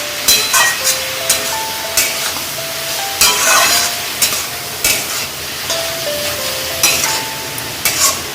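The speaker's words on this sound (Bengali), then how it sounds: "একটু মিষ্টি দিতে হবে আন্দাজ মতো। ভালো করে নেড়ে" A spoon stirs a vegetarian Bengali cabbage curry in a pan with a little sugar added, giving rhythmic scrapes and clinks about once a second over a steady soft sizzle, close and loud.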